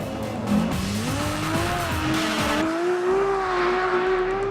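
A Ferrari F12 TDF engine revs and drones in third gear at quarter throttle while tires squeal in long, wavering screeches as it slides sideways, loud and close.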